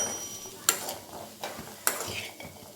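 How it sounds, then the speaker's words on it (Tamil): Grated coconut sautéed with chickpea sundal: a soft sizzle broken by sharp spoon clinks against the pan and scraping stirs at an uneven pace. "தேங்காய் சேர்த்து ஒரு 1 நிமிஷம் போல் வதக்கிக்கலாம்"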